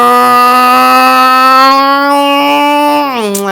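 A voice imitates a mixer grinder, a steady buzzing drone that comes out sounding more like a motorbike engine. It holds one loud, sustained pitch and drops near the end.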